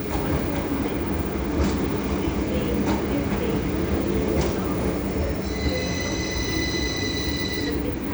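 At Leeds on the East Coast Main Line a train rumbles past nearby, a constant loud roar of wheels with high squealing tones from the rails rising in the last few seconds.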